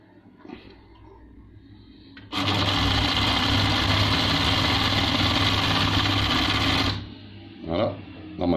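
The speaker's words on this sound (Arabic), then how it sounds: "الماشين نتاعنا راها تقص الكتان" A Citizen sewing machine fitted with a cutting blade trims linen fabric, running as a loud, steady mechanical whir for about five seconds. Quieter handling sounds come before and after the run.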